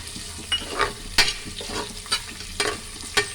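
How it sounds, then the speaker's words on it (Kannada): Onions frying in a pan for vegetable pulao: a steady close sizzle broken by several sharp scraping stirs of a spoon against the pan, with no talking. "ಅದನ್ನ ಚೆನ್ನಾಗಿ ಫ್ರೈ ಮಾಡ್ಕೊಳ್ಳಿ. ನೋಡಿ, ಈರುಳ್ಳಿ ಹಾಕ್ಕೊತಾ ಇದ್ದೀನಿ ನಾನು."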